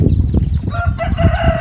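A chicken crows loudly and close by, mixed with clucking from other fowl at a Thai village farm, with dense noisy background throughout.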